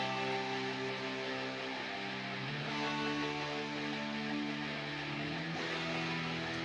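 Clean, chord-based second rhythm guitar part for a positive power-rock production track, routed through Logic pedalboards; sustained strummed chords ring steadily with a chord change partway through, played alone at a moderate level.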